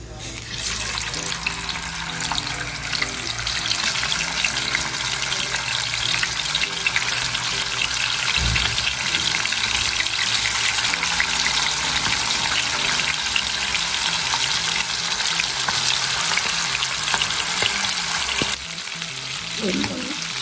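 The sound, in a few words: quail legs frying in hot oil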